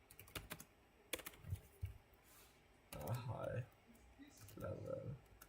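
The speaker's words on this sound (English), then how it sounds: "Gosh, a noob at typing." Typing on a computer keyboard, with quick bursts of close key clicks between pauses, quiet, while someone speaks.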